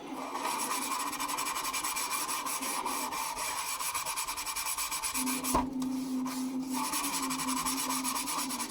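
Black marks are scrubbed off a cooking item in steady, rapid back-and-forth rubbing strokes, a continuous close rasping scrub, briefly interrupted by a single knock.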